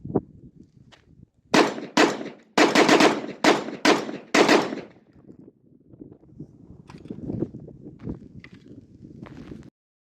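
Five sharp shotgun blasts from Winchester 1-ounce trap loads fired in quick succession, loud and close, followed by quieter clanks and handling noises.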